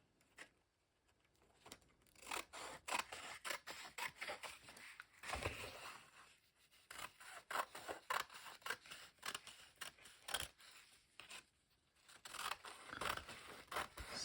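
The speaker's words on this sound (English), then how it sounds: "I think I will cut some long thin stripes, and I won't measure or anything." Scissors snip through paper again and again, cutting long thin strips in quick irregular bursts of sharp crisp cuts with short pauses between them, close and fairly quiet, with no voices.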